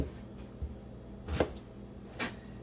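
A knife slices slits into an onion on a cutting board, giving a few distinct, close cutting knocks spread out with quiet gaps between them.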